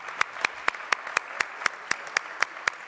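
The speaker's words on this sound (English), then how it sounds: "let's give them a round of applause" Evenly spaced, crisp hand claps repeat in a steady rhythm, about four per second, sounding like a small group or a single person clapping, after a panel discussion at a world congress forum.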